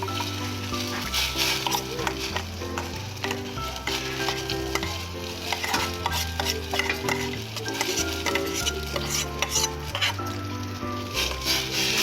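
Sama millet khichdi being stirred in a pot of hot water for a fasting-day dish, with continuous wet sloshing and scraping under a loud layer of background music.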